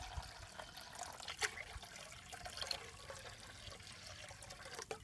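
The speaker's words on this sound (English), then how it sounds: "and then a little bit more water" Water trickles and splashes faintly into a container holding lye and old cast iron, a quiet, steady pour with small gurgles and drips.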